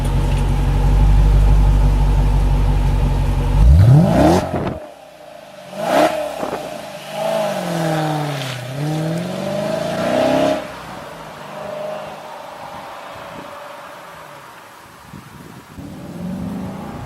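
A Dodge SRT8 Challenger V8 roars close up as it revs and accelerates hard through rising gear sweeps, each upshift followed by a fresh surge of engine noise before the sound settles to a lower cruising drone.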